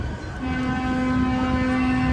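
An EMD SW1001 diesel switcher locomotive built in 1977 sounds a long steady horn tone over its rumbling engine at a railroad festival, loud and unbroken for about two seconds.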